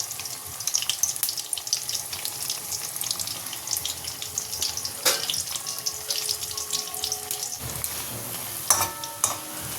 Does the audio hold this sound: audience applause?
no